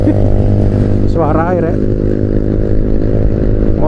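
A Honda New Mega Pro motorcycle rides along a road, its engine a loud, steady close drone with a brief rise in pitch partway through, heard alone without talk.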